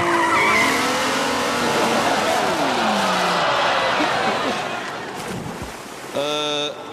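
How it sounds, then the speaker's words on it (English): A Jaguar race car skidding as its driver loses the wheel: a loud, close engine roar with screeching tires and gliding pitch sweeps, easing off before a sharp rising engine tone at the end, with voices mixed in. "He's losing the wheel. Massive error by the Stig."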